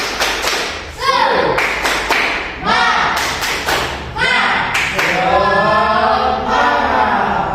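Elementary-school children in a science class clap the rhythmic 'tepuk semangat' chant, loud bursts of sharp claps in patterned groups alternating with shouted chanting voices up close.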